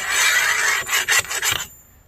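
Rough scraping and rasping as welding slag is cleaned off welded metal upper link bars for a bagged 2013 Toyota pickup, a steady scrub followed by several short strokes, close and fairly loud, then stopping abruptly.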